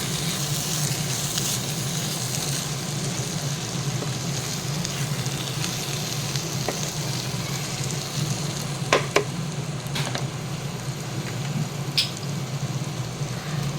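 A soybean and chana dal curry sizzles and sputters in a pan while it is sautéed, a loud, steady frying hiss broken by a few sharp clicks of a utensil, with no voices.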